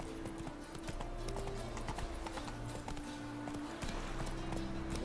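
The horse Roach running in the Witcher 3 video game, its hooves pounding in a quick, steady galloping rhythm over a constant low background hum.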